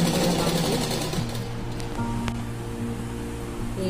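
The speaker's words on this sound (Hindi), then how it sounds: "अब इसमें मैं डबल सिलाई चलाती हूँ बीच में" A sewing machine hums steadily and close by while elastic is stitched onto a palazzo, running continuously with a slight drop in pace partway through.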